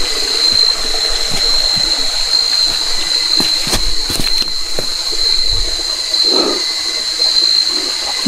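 Water rushing like a waterfall makes a loud, continuous, broadband roar that holds steady throughout, close and unbroken, with no voices.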